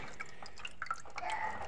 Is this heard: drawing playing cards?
no